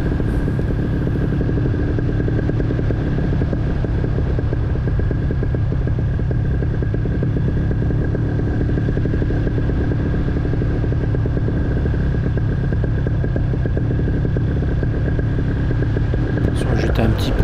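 A paramotor engine idling on a landing approach, a steady low droning hum that runs continuously and loudly throughout, close to the pilot, with wind noise mixed in.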